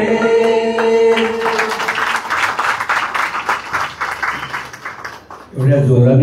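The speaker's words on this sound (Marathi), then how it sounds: "एवढ्या जोराने टाळ्या वाजवल्या." An audience at a live music concert applauds loudly, a dense burst of clapping lasting about four seconds between stretches of voice at the start and end.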